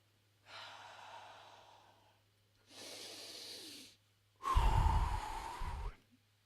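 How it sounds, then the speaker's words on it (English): Three deliberate deep breaths, each a long broad airy rush lasting over a second, separated by short pauses, the last one louder and heavier with a snorting, gusty push; close and alone with no talk. "I'm going to do some breathing."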